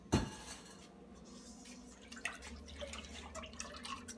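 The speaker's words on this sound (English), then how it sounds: "And then we can simply stir." Lemonade made with cold water and sugar is stirred in a container, giving a faint clink at the start and then soft, irregular clinks and liquid swishes, fairly quiet and close with no voices.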